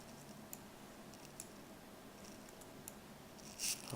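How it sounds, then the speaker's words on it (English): Faint, close typing on a Mac computer keyboard, with sparse light key clicks spread over a quiet room tone and a brief louder burst of clicks near the end. "I'm using a Mac keyboard"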